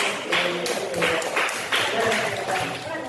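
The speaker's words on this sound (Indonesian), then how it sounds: "Tepuk tangan dong" A class claps for a student's correct answer during a school lesson, several uneven bursts of hand clapping close by, with voices mixed in.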